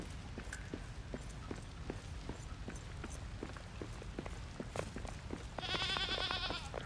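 Goat bleating in the video game Return to Moria, a short wavering call near the end over steady in-game ambience and repeated light footstep-like clicks.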